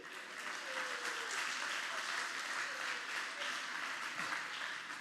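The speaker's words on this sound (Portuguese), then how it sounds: "Dê uma salva de palmas a Ele." A church congregation applauds during a sermon, steady, fairly soft clapping filling the whole moment with faint voices mixed in.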